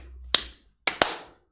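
Hand claps in a childhood clapping game, three crisp close claps: one alone, then a quick pair, each with a short room decay and silence between.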